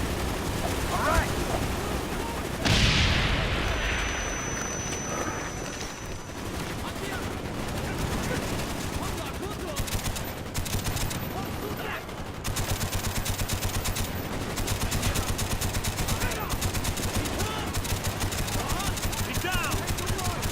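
Heavy gunfire in a Vietnam War video game, with bursts of rifle and machine-gun fire rattling almost continuously, loud and close, while voices shout over the battle.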